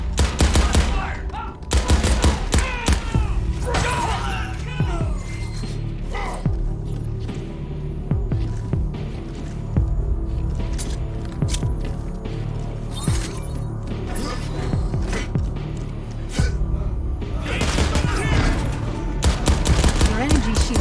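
Sustained automatic gunfire and rapid bursts in the video game Crackdown 3, loud and continuous over a low throbbing hum, with occasional crashes and game voices mixed in.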